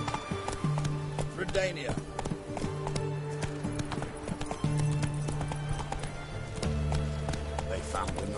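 A horse gallops in The Witcher 3 with rapid, rhythmic clip-clop hoofbeats running throughout, close and steady, under character dialogue and sustained game tones.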